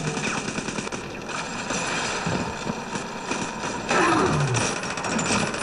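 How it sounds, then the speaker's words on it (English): A turret fires in the game Bioshock 2, delivering bursts of rapid mechanical gunfire mixed with other combat noise, fairly loud and continuous over a few seconds. "Wait, now someone else is shooting me as well."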